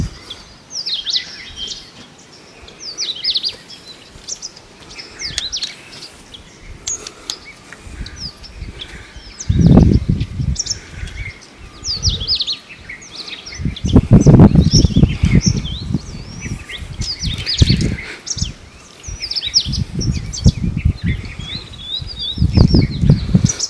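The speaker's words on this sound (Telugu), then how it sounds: "చిన్న చిన్న పక్షులు అరుస్తూ ఉన్నాయి." Small birds chirp in trees on hills around a hilltop temple, a scatter of high, quick calls running throughout, with intermittent low gusts and rumbles breaking in over them.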